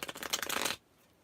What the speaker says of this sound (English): I always shuffle these cards before I get on here and clear the energy